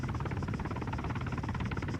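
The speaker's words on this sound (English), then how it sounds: "Helicopters." Military helicopter in the video game Arma III, a steady loud rotor thrum with rapid blade chop and turbine whine, continuous and close throughout without talk.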